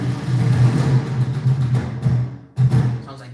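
Dhol drum sample triggered in a sequencer for an orchestral mix, heavy in the low-mids, with a dense sustained rumble and a short break before a final loud hit.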